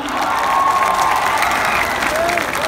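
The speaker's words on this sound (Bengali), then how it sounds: "একটা জোরে হাততালি বন্ধুরা।" A festival concert audience claps loudly and continuously, a dense wash of applause with some crowd noise and cheering mixed in.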